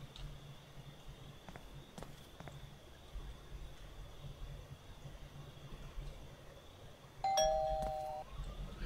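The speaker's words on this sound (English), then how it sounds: "I just rang a doorbell!" Doorbell in the Thief Simulator video game rings near the end, a bright two-tone chime standing out over a steady ambient game background.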